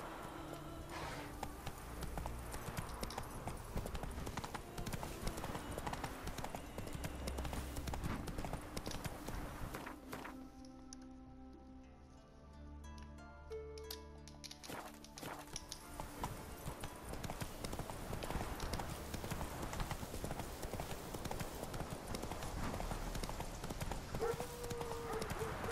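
Horse hooves clip-clop steadily while riding in The Witcher 3, a continuous rhythmic trot under game ambience, with a brief quieter gap midway before the hoofbeats resume.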